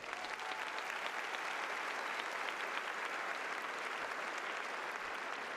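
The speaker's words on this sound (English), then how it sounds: "Please give them a round of applause." A graduation audience at Tuscaloosa County High School gives a round of applause, a dense, even wash of clapping from a large crowd that carries on steadily throughout.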